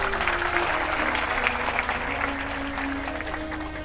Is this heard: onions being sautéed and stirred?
no